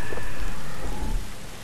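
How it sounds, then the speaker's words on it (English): Heavy, steady rain pours in The Last of Us, with a low thunder rumble beneath the dense hiss and no voices. "It's raining."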